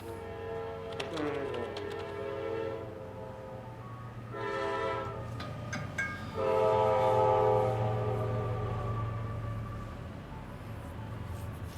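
A video game train rumbles past steadily with several long horn blasts sounding at intervals, fairly distant and muffled, with occasional faint clicking in the background.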